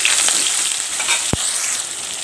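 Onion and green chili added to a pan with pangas fish, a loud, close, steady sizzle with one sharp knock partway through.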